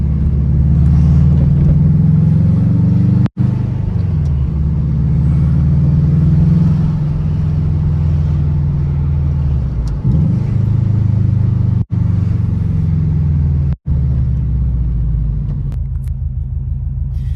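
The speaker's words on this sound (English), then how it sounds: "That's the reveal of my new weekend car." A Subaru GC8 idles steadily with a deep, loud, continuous rumble that shifts slightly in pitch. A few sharp clicks break through it along the way.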